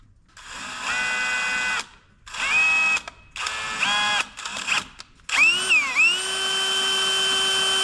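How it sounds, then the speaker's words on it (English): A power drill spinning a cable whirs in repeated bursts, stopping and starting, then winds up and runs continuously at a steady high pitch. "We'll put the drill on the other end and"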